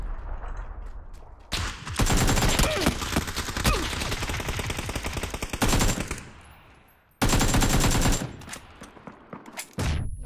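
Enemy gunfire in a video game, loud sustained bursts of rapid automatic fire that stop and restart, with a short quieter gap before another heavy burst and a few closing shots; a grenade is also thrown in.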